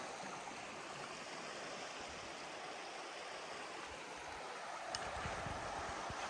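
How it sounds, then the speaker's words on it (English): A stream flowing through a valley near Carey Burn, a steady broadband rush of water that stays even and moderately distant throughout, with no voices. "Water's got some flow on it."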